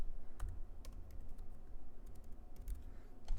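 Fast typing on a computer keyboard, a steady run of close, crisp key clicks over a low background hum, no voices.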